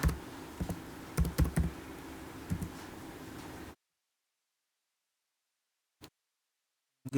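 Typing on a computer keyboard: a few scattered clicks, then a quick cluster of sharp keystrokes, close and dry over faint room noise, followed by silence and two isolated taps near the end.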